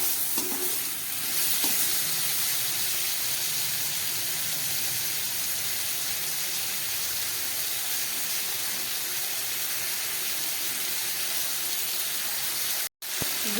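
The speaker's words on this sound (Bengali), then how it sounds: "খুব ভালো করে এবার আমি গ্যাসটাকে কম করে মশলাটাকে কষিয়ে নেব।" Spice paste and chopped tomato frying on low gas heat give off a steady, even sizzle with occasional stirring scrapes, close and continuous, with a brief gap near the end.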